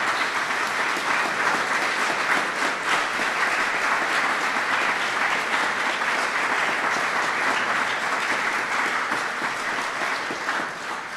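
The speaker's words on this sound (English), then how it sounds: "Would you give them all a round of applause for their kindness?" A large audience applauds at an ambassador swearing-in ceremony, sustained and even clapping that holds at a loud, steady level for over ten seconds before easing slightly at the end, with no voices.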